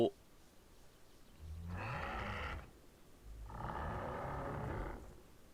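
Two long, low bellowing cow-like calls from a Barsboldia dinosaur in the video game Path of Titans, each about a second long, separated by a short pause, fairly loud and close.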